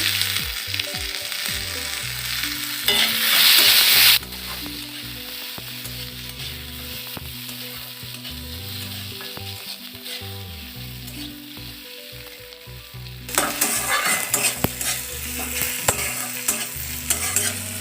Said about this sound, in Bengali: মশলা আমার ভালো করে ভাজা হয়ে গেছে